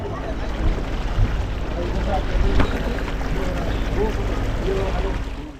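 A boat ride on Lake Pichola in Udaipur, with a steady broadband rumble of engine and water mixed with wind buffeting the microphone, continuous and fairly loud throughout, with voices talking over it.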